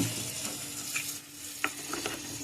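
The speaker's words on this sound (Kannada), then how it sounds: "ಪ್ಯಾನ್ ಇಟ್ಟಿದ್ದೀನಿ ಪ್ಯಾನಿಗೆ ಸ್ವಲ್ಪ ನಾನು ತೆಂಗಿನ ಎಣ್ಣೆ ಹಾಕ್ತೇನೆ" Coconut oil heats in a frying pan with a low, even sizzle, broken by a few light scrapes and taps of a utensil against the pan, close by and with no talking.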